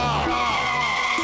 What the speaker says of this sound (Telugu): ఎవరో కారు స్టార్ట్ చేసిన సౌండ్ వస్తుంది